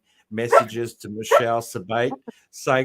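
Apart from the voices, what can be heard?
dog barking and whining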